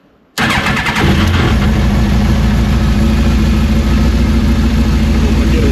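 A Smart car engine catches abruptly and settles into a loud, steady, rough idle with not all cylinders firing, heard close up and alone.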